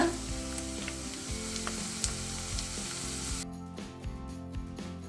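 Ginger garlic paste fries in a hot pan for a stuffed brinjal dish, a loud crackling sizzle with stirring scrapes that drops sharply to a softer hiss partway through.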